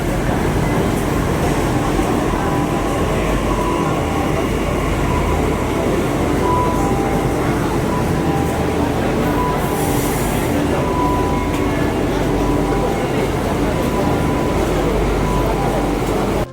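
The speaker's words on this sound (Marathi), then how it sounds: "प्लॅटफॉर्म नंबर 1 वर येईन आपली गाडी." A Delhi metro train pulls into the platform with a loud, continuous rumble of wheels on rails and squealing brakes. Voices are faintly audible beneath the noise.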